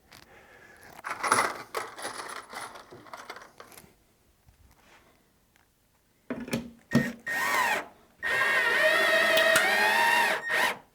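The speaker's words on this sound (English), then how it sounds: "Little snap in the plastic where it opened up and grabbed the drywall really nicely." A plastic speaker mounting clamp snaps open and grabs drywall with sharp clicks and short ratcheting bursts, alone and fairly close, between quiet gaps.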